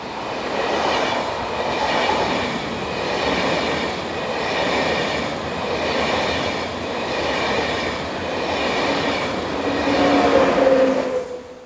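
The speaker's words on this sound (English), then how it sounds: "Railjet services run every hour, such as in this example seen here." A Railjet passenger train on the Semmering line rumbles past with a steady, rolling roar and rhythmic wheel beats, swelling slightly louder near the end before cutting off.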